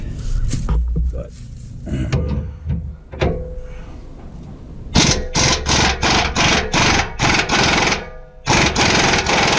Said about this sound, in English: you're not supposed to put an impact on a chrome socket